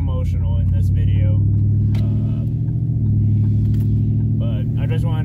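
A Ford Mustang nicknamed Big Red drives along with a steady low engine rumble and road drone throughout, close and continuous, while a person talks over it.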